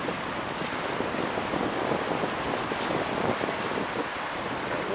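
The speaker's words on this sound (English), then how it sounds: "Water is flowing" Storm runoff rushing down the Santa Ana River at the 17th Street Bridge underpass in Santa Ana, California, heard as a steady, loud broadband wash with wind buffeting the microphone throughout.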